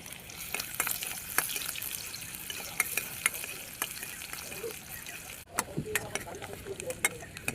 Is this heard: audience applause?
no